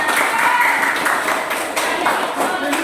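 Classroom group claps hands for a team of students during an academic supervision session, a steady brisk patter of many hands, fairly close, with faint voices mixed underneath.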